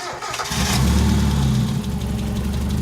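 A 1991 Mazda Miata that sat unused for 15 years cranks and fires up after a brief moment, then settles into a loud, steady idle close by.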